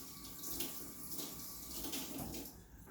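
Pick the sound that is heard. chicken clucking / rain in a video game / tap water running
tap water running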